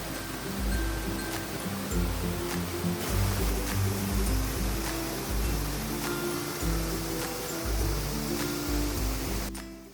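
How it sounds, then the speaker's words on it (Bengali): Water cascading down the Kusum hill waterfall at Dhangikusum in Jhargram, surrounded by rocks and creeping plants, giving a steady, loud, broadband rush with a deep rumble throughout and no voices. "অবশেষে আমরা পৌঁছেছি কুসুম ঝর্ণায়"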